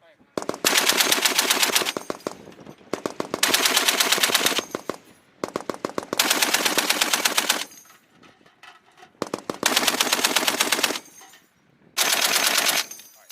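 Machine gun firing on a US Marine Corps training range, five long sustained bursts separated by short pauses, loud and close, with faint talk between bursts.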